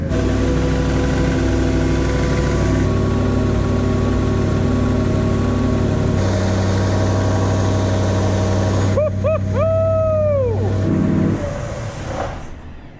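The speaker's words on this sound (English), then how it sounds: "that's the cold start sound" A Ford Raptor R fitted with a Whipple supercharger settles into a loud, deep cold-start idle, droning steadily close by, then a brief whine sweeps and the rumble fades toward the end.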